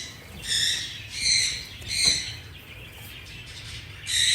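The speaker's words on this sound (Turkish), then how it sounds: "Bu renkli kuşumuz çok güzel bir kuş." A bird calls repeatedly in high, raspy bursts about every second, fairly close, with a low background hum and no talking.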